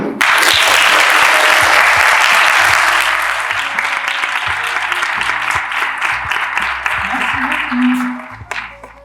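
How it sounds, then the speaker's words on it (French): Audience applause at an evening show, loud dense clapping from a full crowd that gradually thins and fades toward the end, with some speech underneath. "Merci d'applaudir Églantine."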